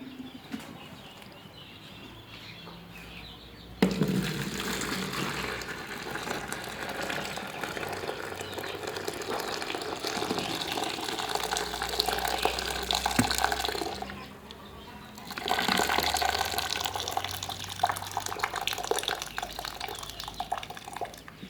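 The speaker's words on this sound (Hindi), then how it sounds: "अब हम छोले का पानी निकाल लेंगे।" Cooking water is poured off boiled chickpeas in a village kitchen, a steady splashing stream of liquid that starts abruptly, pauses briefly, then resumes, close and moderately loud with no talking.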